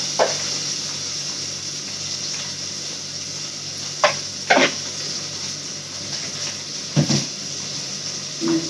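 Mustard seeds crackle in hot oil for a Sunday Sankara fish kuzhambu and prawn thokku, a steady hiss with a few sharp pops scattered through, close and fairly quiet, no voices.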